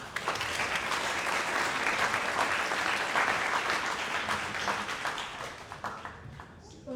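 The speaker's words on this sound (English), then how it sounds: "can we give everybody who's gone these first 4 another round of applause?" Audience applause for student presenters at a school Dragons Den pitch event, a full steady wash of clapping from a sizable crowd that tapers off toward the end as a few voices emerge.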